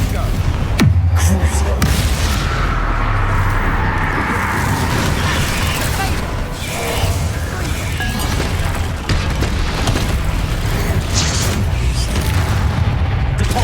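Repeated booming blasts of the Confringo explosion spell from the video game Hogwarts Legacy burst through a busy battle, loud and frequent, with a voice calling out over them.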